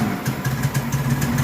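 Car engine idling after a carburetor cleaning to clear gunk, a close, steady low rumble with a rhythmic lope and faint pulsing, alone with no talk.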